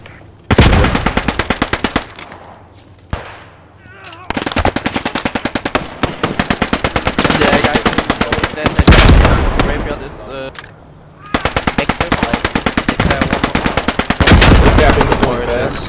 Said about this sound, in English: Enemy machine gun rifleman on attack.